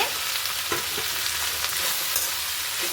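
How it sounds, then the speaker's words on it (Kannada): Mint leaves fry in a pan for chutney, giving a steady close sizzle with a few soft stirring scrapes and no talking. "ಪುದೀನ ಸೊಪ್ಪು ಸ್ವಲ್ಪ ಫ್ರೈ ಆದರೆ ಸಾಕು"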